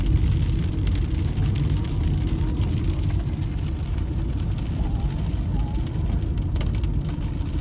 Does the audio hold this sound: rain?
yes